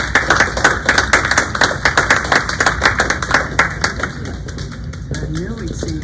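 A town hall audience applauds a new village supervisor, dense clapping from many people that thins and fades after about four seconds, leaving a quiet room with a faint voice.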